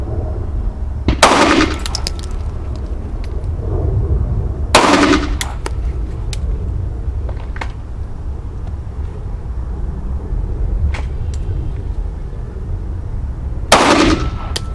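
Three sharp, loud pistol shots from a KelTec P17 or Sig P365XL ring out at uneven intervals, close by, over a steady outdoor background.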